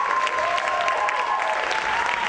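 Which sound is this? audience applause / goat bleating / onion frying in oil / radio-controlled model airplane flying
audience applause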